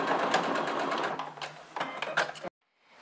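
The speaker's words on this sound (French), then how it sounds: "C'est parti pour la couture, j'oublie pas mon point d'arrêt au début." Sewing machine stitching fabric for a cloth tissue box runs steadily at close range for over two seconds, then stops abruptly, leaving near silence.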